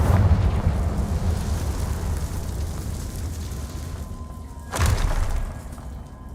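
A Confringo fire-blast spell explodes in the Hogwarts Legacy video game, a deep booming burst that opens loud, rumbles on, then a second sharp thud hits near the end.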